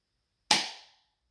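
A single sharp airsoft Derringer pistol shot, fired close up at a bare forearm, cracks out loud and alone, then its brief ringing tail fades out quickly.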